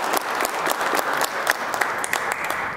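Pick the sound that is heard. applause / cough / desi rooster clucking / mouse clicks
applause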